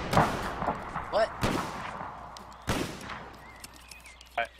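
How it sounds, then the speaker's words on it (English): Gunfire from enemy soldiers in the video game Mount & Blade, North and South mod: several sharp musket shots at irregular intervals, some near and loud, others more distant, over faint game background noise. "All those guys firing at us."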